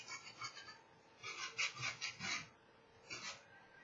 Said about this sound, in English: I'm going to do another quick little scrape with my scraper